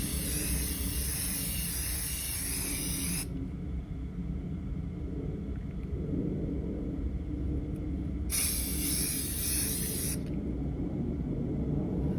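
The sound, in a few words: spray paint being sprayed onto a tray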